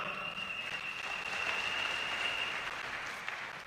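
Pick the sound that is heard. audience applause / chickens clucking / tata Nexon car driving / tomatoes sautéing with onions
audience applause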